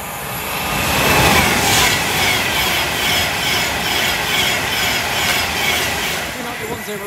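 A train passes through Tamworth station bound for London Euston, a loud, close, sustained rumble of wheels and engine that swells early and holds for several seconds.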